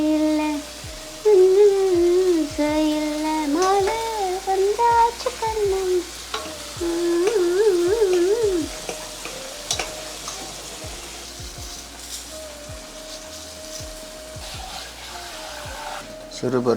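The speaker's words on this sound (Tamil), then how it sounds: "தோசை கல்லில் போட்டுவிட்டு திருப்பி" Dosa batter sizzling and frying on a hot griddle stone, a steady close hiss with clinks and scraping from turning, while a melodic voice sings or hums over it for much of the time.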